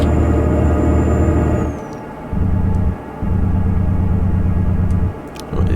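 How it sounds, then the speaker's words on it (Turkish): Volvo FH truck in Euro Truck Simulator 2 under engine braking: a loud, steady low rumbling drone that cuts out briefly twice and resumes, with a faint high whine fading early on. "Motor freni sesi güzel."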